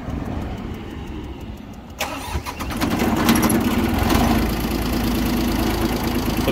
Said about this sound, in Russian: Давайте будем аккуратненько запускать тракторок и смотреть, как он работает.